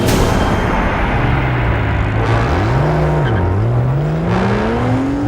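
Stunt motorcycle with tyres skidding, a loud continuous engine drone and tyre squeal rising and falling in pitch as the bike slides and revs, with no voices.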